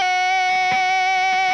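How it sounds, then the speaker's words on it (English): An electric guitar run through an octave pedal plays a lick, bright sustained tones with doubled pitches, close and loud with a brief rhythmic flurry of picked notes. "we're going to start off with the octave pedal"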